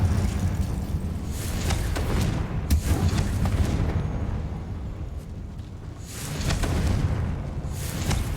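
Confringo spell explosions in the video game Hogwarts Legacy go off as a series of heavy booming blasts. Several loud detonations come in bursts, with rumbling tails between them.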